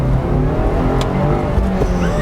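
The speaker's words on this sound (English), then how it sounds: "I just love hearing all the clinks and clanks in the engine." A 2018 Subaru WRX with a turbocharged engine accelerating hard, a loud, steady engine roar with a rising drone that continues throughout, close and dominant with no talk over it.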